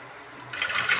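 Sewing machine stitching Patiala salwar fabric, starting up halfway through with a steady, fairly loud mechanical whir that runs to the end, with no talking.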